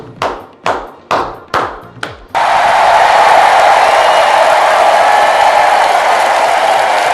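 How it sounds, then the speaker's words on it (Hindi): Audience applause at a political speech in Hindi: a few separate hand claps first, then sustained loud crowd clapping that runs on steadily without talk. "तालियां"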